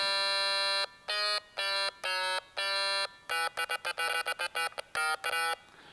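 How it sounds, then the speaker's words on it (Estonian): Stylophone played as a run of short, buzzy electronic tones, first a few spaced notes, then a quicker stuttering sequence of clipped beeps, close and alone. "Minu nii-öelda kõige kummalisem pill on arvatavasti stylophone."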